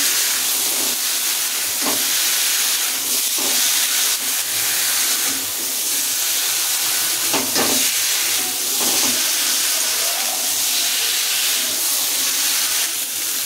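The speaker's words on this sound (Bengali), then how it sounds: "এবার দিয়ে দেবো ডাঁটা আর বেগুনগুলো। দিয়ে এবার নাড়াচাড়া করবো।" Vegetable stalks and eggplant frying in a spice paste, a loud continuous sizzle and hiss with occasional stirring clatters, no voices.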